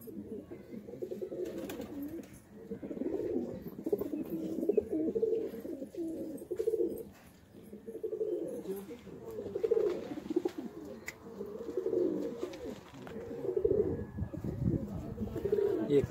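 Several Sialkoti pigeons coo in soft, repeated rolling phrases, nearby and overlapping, with a faint murmur of background noise.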